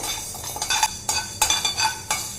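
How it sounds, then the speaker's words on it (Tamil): A spoon scrapes and stirs whole green gram dry roasting in a pan, giving repeated gritty rustling strokes at a steady, fairly close rhythm with no talking. "இதுவும் வந்து நல்லா செவக்க வறுத்துக்கலாங்க"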